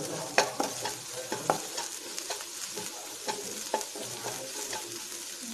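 Ginger and garlic fry in hot oil in a pan for a Kerala-style brinjal vindaloo, a steady close sizzle broken by repeated scrapes and clicks of a spoon stirring, with no talking.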